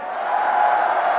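A large esports crowd at DreamHack 2010 cheers for StarCraft II player MaDFroG, a steady, dense roar of voices holding level for a moment without any clear single speaker.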